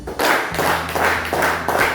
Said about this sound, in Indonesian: Perempuan berkata tepuk 5 kali.